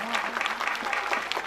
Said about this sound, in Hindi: बच्चियों के नाम की ताली।